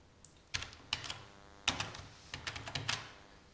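Typing a few digits on a computer keyboard and pressing Enter, a handful of close, quiet key clicks in a short irregular sequence, heard alone.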